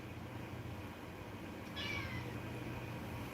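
A house cat gives a single short meow near the middle, fairly faint and slightly distant, over a steady low background hum with no talking.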